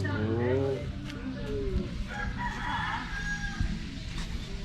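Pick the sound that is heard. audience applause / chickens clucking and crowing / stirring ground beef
chickens clucking and crowing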